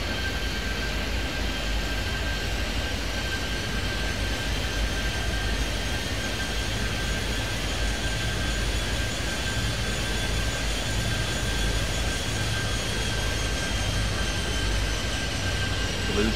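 A jet airliner in Airport Madness 3D rolls down the runway for takeoff, a steady loud engine roar with a high whine held throughout, no talk over it.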